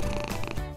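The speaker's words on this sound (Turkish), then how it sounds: "Sevimli kedicik neredeymiş?" A cat purrs in a video game, a brief, close, steady rumbling purr with no talking.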